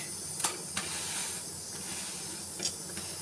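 Rice parathas roasting in oil on a hot pan give a steady, faint sizzling hiss, with a few soft clinks from the pan.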